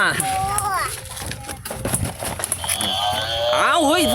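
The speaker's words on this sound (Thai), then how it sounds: "นี่วัวนี่วัวเหรอ" Cows mooing at a beach animal race on a white-sand beach in Thailand, several drawn-out lowing calls rising and falling close by, heard over lively talk and crowd noise.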